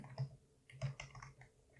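A macro name is typed on a computer keyboard in Excel, heard as a short run of close, soft key clicks in an uneven rhythm, with a few louder taps.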